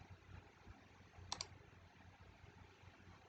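A single quick computer mouse click, a crisp doubled tap, stands out against a quiet background hum with no other activity around it.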